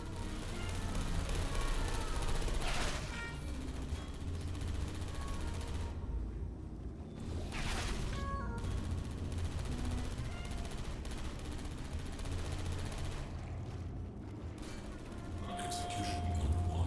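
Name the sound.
turret gunfire in the video game Portal Stories: Mel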